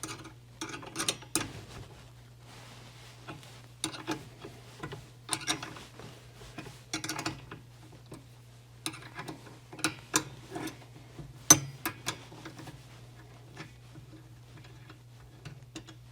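Rev-A-Shelf mixer lift mechanism in a face frame kitchen cabinet being lowered, a series of irregular mechanical clicks and ratcheting ticks over a low steady hum, close and moderately loud.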